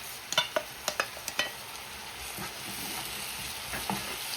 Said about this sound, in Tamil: பார்த்தீங்கன்னா வெங்காயம் எல்லாம் நல்ல வடிவாக வதங்கிக்குது